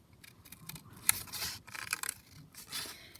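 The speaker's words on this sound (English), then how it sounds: "Just cut that one out." Scissors snip and scrape through paper, cutting out a small butterfly shape, in several short close bursts of crisp cutting while wind gusts faintly in the background.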